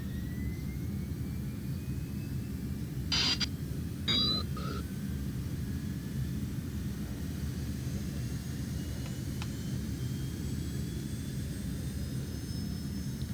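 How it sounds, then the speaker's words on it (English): A jet in the video game ARMA 3 roars steadily and loudly throughout, a continuous engine rumble, with a few brief higher-pitched chirps and clicks partway through. "I hear a jet flying over."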